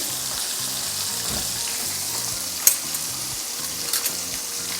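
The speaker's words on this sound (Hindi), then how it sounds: "मैंने ये 2 फोक के ज़रिए बहुत ही आसानी से इसको पलट लिया। बोथ साइड हमने फ्राई करनी है।" A whole chargha chicken fries in a pan of hot oil with a steady, close sizzle throughout, broken once by a sharp clatter and a few lighter knocks partway through.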